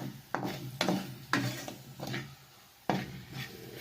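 Spices such as dried coriander, turmeric and cumin are stirred in a pan while goat brain cooks, with repeated close scraping strokes of a spoon against the metal over a soft sizzle.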